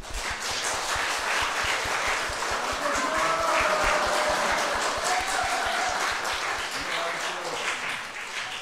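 A church congregation at a Sunday afternoon service applauding, steady crowd clapping throughout with voices murmuring over it.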